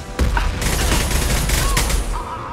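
Gunfire in the Mass Effect 2 video game, a dense continuous volley of loud shots and booms filling the whole clip, with a voice briefly heard under the combat noise.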